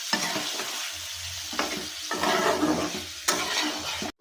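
Fish sizzling as it is stirred and sautéed in a pan with a little water, a steady frying crackle broken by repeated scraping stirs and a sharp utensil knock against the pan.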